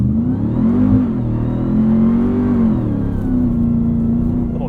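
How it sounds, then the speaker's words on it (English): A 2021 Ram 1500 TRX pickup using launch control to accelerate on sand dunes, heard as a loud, close engine roar that climbs and shifts through gears in a sustained surge, heard from inside the cab. "Launch control on the sand."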